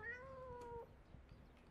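A cat in the video game Wobbly Life lets out a single clear, drawn-out meow, followed by faint background clicks and rustles.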